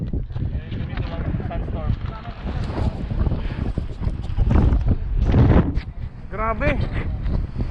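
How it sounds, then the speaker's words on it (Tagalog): Strong desert sandstorm wind buffets the microphone during a mountain bike ride in Al Kharrara, Qatar, a loud continuous roar with gusts, while a rider speaks over it. "Biglang nag-sandstorm."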